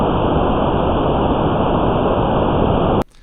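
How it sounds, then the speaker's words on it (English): White noise colored by a system's impulse response makes a dense, steady rushing hiss, similar to surf or a distant jet, that holds constant for three seconds before stopping sharply. "And so it will kind of color the noise."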